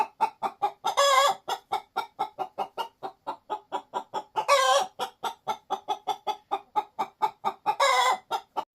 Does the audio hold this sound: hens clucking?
yes